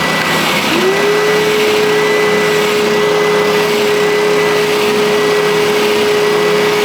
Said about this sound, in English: then I'll turn the vacuum on and you should see a major difference in the amount of dust